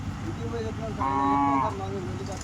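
A cow moos once, a drawn-out low call lasting about half a second, over steady background noise and faint murmuring.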